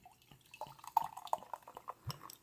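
Guava ginger kombucha pours out with a few soft, close drips and splashes, sparse liquid sounds scattered over a couple of seconds.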